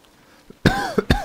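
A person coughs in a sudden harsh burst, then gives two more quick coughs, loud and close after near silence.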